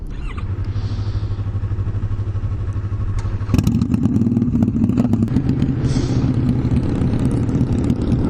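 Two Harley-Davidson motorcycles idle nearby with a steady low rumbling engine drone, which grows noticeably louder and rougher partway through as the throttle rises, with no talking.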